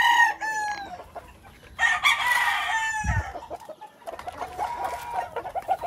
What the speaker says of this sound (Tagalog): yung mga tandang dito ko sa aking mga flying pen